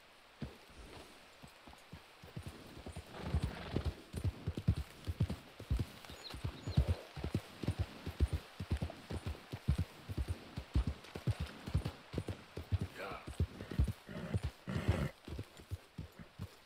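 Hooves clip-clop steadily from a horse in Red Dead Redemption 2, a continuous quick rhythmic trot over ground, fairly faint, with a low rumbling game ambience behind it.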